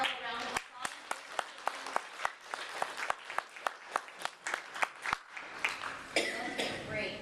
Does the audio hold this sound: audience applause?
yes